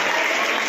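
Applause from an audience at a felicitation ceremony honouring guests and performers, a dense, steady wash of clapping held at an even level throughout the brief moment, with no voices standing out.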